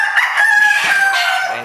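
A Colonel Gibbons Hatch gamefowl rooster crows once, close and loud, its strained, wavering call held for over a second before trailing off.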